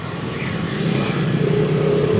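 A vehicle engine drones and rises steadily in traffic on a village road at night, loud and continuous, with a broad rumble.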